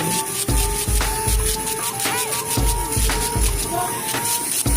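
A small electric nail drill whirs continuously with a high steady whine, grinding off gel nail extensions in short repeated passes that pulse every half second or so.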